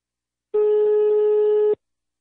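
A single telephone ringback tone sounds for about a second, a clean steady electronic beep alone against silence.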